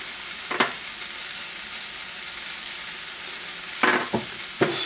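Spices including turmeric, cumin, garam masala, coriander and chili powder are stirred into a frying pan for black bean curry: a soft steady sizzle with a few short scraping stirs, close and without talk.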